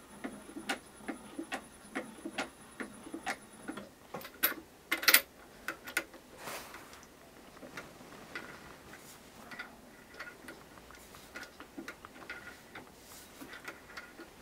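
A shoe sewing machine's bobbin hook mechanism runs with a fast, steady mechanical ticking and clicking, bobbin case removed, close and fairly quiet, with a few sharper clacks partway through.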